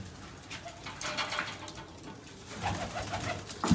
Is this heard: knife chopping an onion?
no